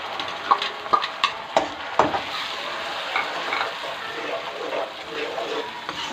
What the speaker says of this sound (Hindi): अब इसके अंदर मैंने 1 पाव टमाटर मैंने ग्राइंड कर लिए हैं, इनको मैं पेस्ट इसका डाल दूँगी।